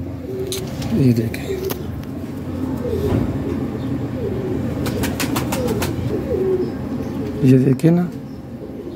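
Pigeons kept for flying coo repeatedly, with soft rolling calls at close range and a louder burst near the end, while someone talks over them throughout.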